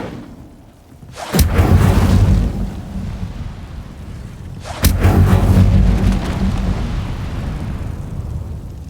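Incendio fire spell cast twice in Hogwarts Legacy, each one a sudden loud whooshing burst that flares up and then roars down into a fading, crackling rumble, with no talk.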